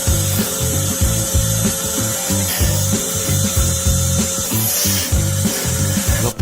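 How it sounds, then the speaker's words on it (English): Wood is shaped on a machine tool into a goblet with loud, continuous rhythmic rubbing and scraping, repeating in quick regular strokes close up. "Here's what a true craftsman can do with nothing but a piece of wood and a machine tool."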